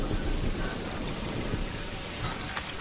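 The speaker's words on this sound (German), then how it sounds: "Ich mache mal den Regen ganz kurz wieder aus." Rain from the weather in the zoo-building game Planet Zoo falls as a dense, steady hiss with a low rumble underneath, and no one speaks over it.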